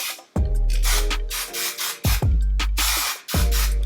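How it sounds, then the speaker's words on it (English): Hairspray is spritzed onto hair in about five short, hissing bursts, each close to the mic, while a low tonal background thumps along with them. "I'm gonna go ahead and spray this all in my hair"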